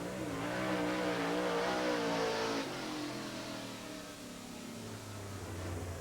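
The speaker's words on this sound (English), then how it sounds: "Listen to those little things dig up that back straightaway." Race cars on the Eldora Speedway dirt track, the 2007 Prelude to the Dream, their engines roaring and rising in pitch as they pull uphill along the back straightaway, loud at first, then easing off and fading slightly.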